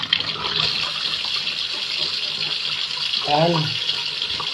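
Water runs steadily from a kitchen tap while ingredients such as fruit are rinsed under it, a continuous close hiss with a short voice breaking in near the end.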